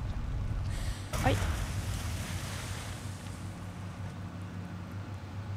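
Running water in the horror game Layers of Fear, a steady rushing wash with a brief louder surge early on, then an even flow; a player speaks briefly over it.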